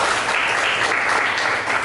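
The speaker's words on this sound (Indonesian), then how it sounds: "Pertanyaan yang bagus, beri tepuk tangan untuk Khalid." Students in a classroom clapping together in a brief, loud, steady burst of applause.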